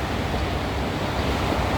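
Canal water in Zahle, Lebanon rushes steadily past, a dense, even roar of flowing water with no pauses.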